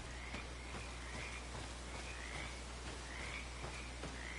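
Frogs croaking in the video game Greedfall, a chorus of rapid repeated croaks in a steady rhythm against a constant low hum, moderately close with no talking.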